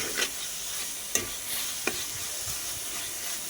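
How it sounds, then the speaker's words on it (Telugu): A spice mixture for a spicy chicken gravy with avakaya chili powder frying in a pan gives a steady close sizzle, broken by a few sharp clicks of a stirring spoon against the pan. "ఇది బాగా ఫ్రై అయ్యేంత వరకు కుక్ చేద్దాం"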